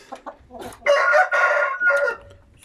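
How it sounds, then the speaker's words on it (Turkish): A rooster crows loudly and close by, one drawn-out cock-a-doodle-doo, preceded by a few short clucks. "Evet bu damızlık horozum."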